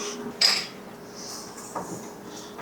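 Milk stirred into a homemade rice side dish with melting Colby Jack cheese in a pot, heard as a few spoon clinks and scrapes against the pot with soft stirring in between.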